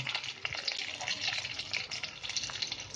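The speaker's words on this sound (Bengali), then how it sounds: "এতে আমি একটু কাজু কিশমিশ ভেজে তুলবো।" Cashews and raisins fry in a little oil in a pan, a faint, continuous sizzle and crackle with small irregular pops, heard close with no talk.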